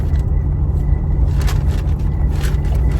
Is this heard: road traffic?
yes